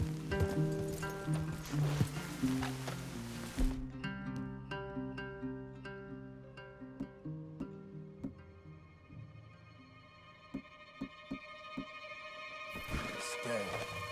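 Horses clip-clop through a Red Dead Redemption 2 game scene, a loose run of hoof knocks and clicks mixed with game music and ambience, with brief bright rattles near the end.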